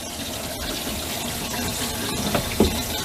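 Water runs steadily from a newly installed faucet into a kitchen sink in an old mobile home, a constant hissing splash with a couple of small clunks near the end.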